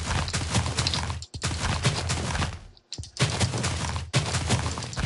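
Dense, rapid TNT cannon blasts in a video game rattle on continuously in several long bursts with brief gaps, loud and harsh like nonstop game explosions.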